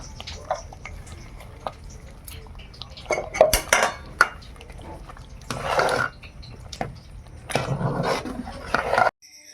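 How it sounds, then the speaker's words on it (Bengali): A khichuri cooking pot is taken off the stove in a home kitchen: scattered metallic clanks, scrapes and rattles of pot and utensils, a few louder knocks, between quieter pauses. "এবার খিচুড়ি হাঁড়িটা নামিয়ে দেই"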